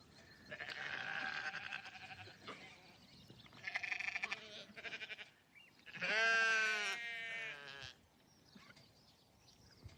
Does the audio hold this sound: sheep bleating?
yes